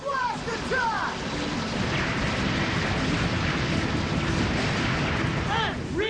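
Dense, sustained rumbling barrage of cartoon heavy artillery fire from Transformers Energon, loud and continuous, with brief voice-like squeals at the start and end.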